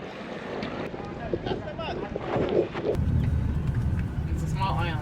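Small dinghy outboard motoring in strong wind, a low steady engine hum that grows louder in the second half beneath heavy wind buffeting, with people talking over it.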